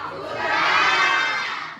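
A group of students in a classroom shouts together in one loud, brief cheer that swells and fades within about two seconds.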